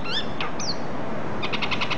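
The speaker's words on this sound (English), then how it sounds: "It's gone from bird fighting to bird porn." Several birds squabble in a brief burst of sharp chirps and squawks: scattered high calls at first, then a fast run of repeated tweets toward the end, fairly close over a steady outdoor background.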